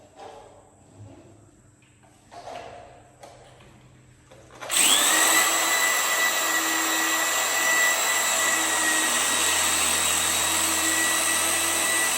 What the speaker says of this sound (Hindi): हमारी ड्रिल भी खिड़की की ड्रिल नहीं है ना, वो कंक्रीट में भी सुराख करते हैं।